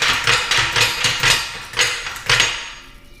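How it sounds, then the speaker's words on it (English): A Torin Big Red hydraulic floor jack handle is pumped rapidly about six times, a series of sharp metallic clanks in quick, slightly uneven rhythm, close and loud with no talk. "rapidly pump the handle 6 to 8 times"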